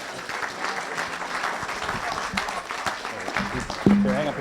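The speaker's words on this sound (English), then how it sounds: "let's give another round of applause for Paul." An audience applauds speaker Paul after a talk on Everest, a steady patter of clapping from a medium-sized room, with a voice breaking in near the end.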